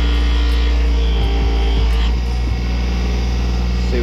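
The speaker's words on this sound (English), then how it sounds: "we're gonna come in first, the right-handed here, on our Scotch-Brite wheel" Scotch-Brite wheel spinning on a bench grinder while it restores a rusty hoof knife, a loud steady motor hum with brief scuffing touches as the blade meets the wheel.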